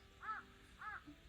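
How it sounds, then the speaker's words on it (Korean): A crow caws twice in a quiet countryside spring setting, two clear, fairly distant calls spaced about half a second apart, with no voices. "까마귀 소리가"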